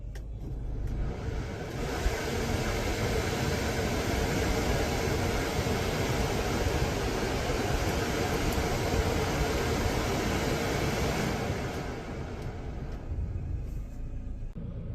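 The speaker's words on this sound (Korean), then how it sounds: "에어컨" Steady broadband whoosh of a car air conditioner blowing at full fan speed, constant and fairly loud, easing slightly near the end.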